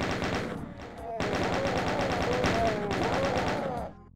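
Rapid, sustained gunfire from the video game Doom II while shooting corpses: a dense, loud rattling burst with a brief pause before continuing, then cutting off, with a voice talking over it.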